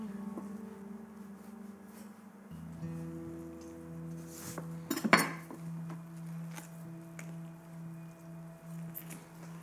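A chef's knife works around the joints of a duck on a board, giving soft clicks and a brief crunchy scrape midway, close and fairly quiet over low background hum.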